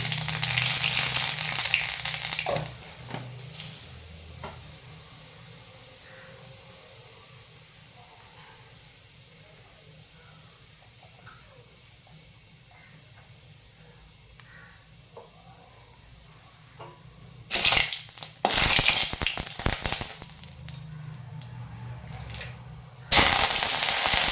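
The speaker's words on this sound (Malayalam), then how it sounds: "അപ്പോൾ നമ്മൾ കുറച്ച് കടുകിടാണ് ഇതിൽ." Mustard seeds spluttering in hot oil, with sharp crackling pops and hissing bursts at the start and again near the end, and a quiet low simmer in between.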